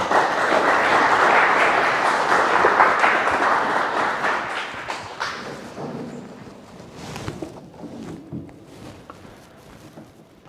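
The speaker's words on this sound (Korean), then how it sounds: "큰 박수로 맞이해주십니다." A lecture audience at a breakfast academy talk applauds to welcome the speaker, with dense clapping that is loud at first and then thins out and fades into scattered claps near the end.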